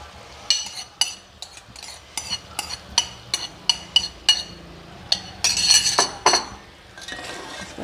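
A spoon clinks repeatedly against a pot while boiled chana and mash dal are stirred into fried masala, a steady series of sharp metallic taps with soft mushy scraping and a brief sizzle.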